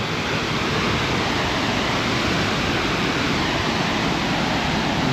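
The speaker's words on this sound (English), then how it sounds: "That is a big waterfall though." Cumberland Falls in Kentucky roars as a steady, loud, continuous wall of rushing water, with broadband noise that never lets up and no voices.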